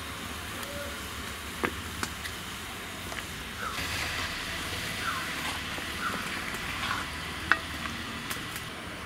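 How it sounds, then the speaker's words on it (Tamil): A jaggery and chili powder spice mixture simmers in a home kitchen pan for an Onam dish, giving a steady, soft bubbling sizzle with occasional clicks of stirring, close and without talk. "எல்லாமே நல்லா சேர்த்து கொதிச்சு கொஞ்சம் சுண்டட்டும்"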